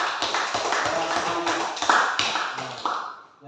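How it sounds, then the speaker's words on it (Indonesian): Classroom applause from a small group of students, heard as sparse, rhythmic claps at close range. Voices murmur underneath, and the clapping tapers off toward the end. "Ayo kita berikan aplaus."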